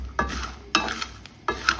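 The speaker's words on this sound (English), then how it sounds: "so we have started real frying, and we have to keep stirring it, keep turning to avoid burning" Groundnuts being stirred as they fry in a pan, with scraping strokes of the spoon at a steady pace over a soft continuous sizzle, close up with no voices.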